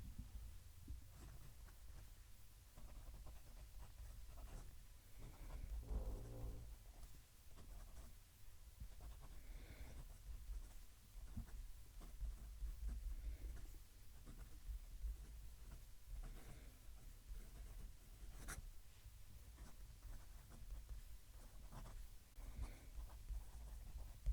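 A gold-nibbed fountain pen with a very soft nib writes a sentence on paper, its faint, close scratching strokes running steadily under a low background hum.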